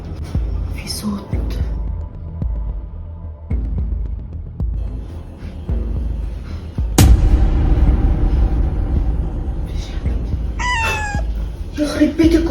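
A cat meows indoors in a home, with a few short rising and falling cries near the end over background rumble, muffled movement and faint voices.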